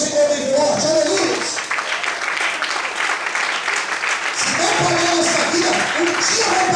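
A church congregation applauds loudly and steadily, a dense wash of many hands clapping close by that continues the whole time, with voices calling out over it.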